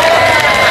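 Brief, loud burst of audience applause and cheering from a crowd at a school visit, dense clapping with raised voices mixed in.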